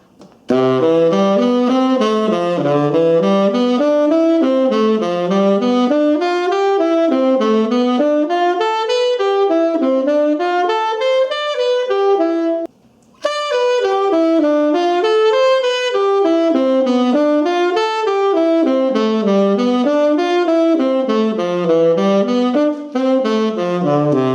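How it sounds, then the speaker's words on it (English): Four-note diatonic seventh chords played one after another on a keyboard, notes rising and falling in a steady flowing pattern, with one brief pause midway. "you can also play the seventh chord up and down, so one up, one down."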